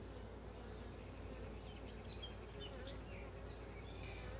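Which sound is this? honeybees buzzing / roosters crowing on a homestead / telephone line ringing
honeybees buzzing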